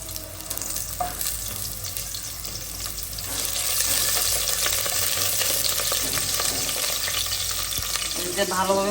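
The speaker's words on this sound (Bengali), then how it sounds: "পেঁয়াজটা ভাজা হয়ে গেছে" Onions frying in oil in a cooking pot, a dense steady sizzle that grows louder partway through, with occasional stirring clinks and no talk.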